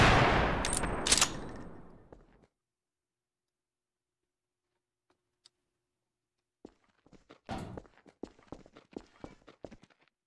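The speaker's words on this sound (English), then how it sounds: "He's shooting like crazy." Rapid gunfire in Garry's Mod, in an Atomic RP roleplay server, crackles as a fast, irregular string of sharp shots that follows a burst of loud noise and a long stretch of near silence.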